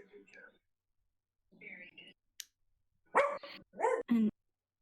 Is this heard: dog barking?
yes